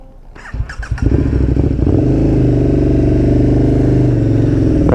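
A KTM 1290 Super Duke R motorcycle clatters through a few quick blips, then its engine builds into a loud, sustained rev as it pulls away, close and without any talking.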